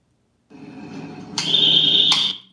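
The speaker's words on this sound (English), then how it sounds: "My God, it's like an alarm." A loud doorbell at a seaside home rings with a harsh, shrill electronic buzz like an alarm, starting abruptly, swelling midway, then cutting off.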